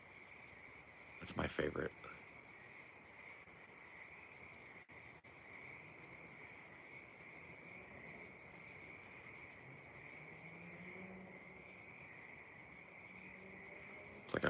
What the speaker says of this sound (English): Started to rain a little bit and the frogs are singing now.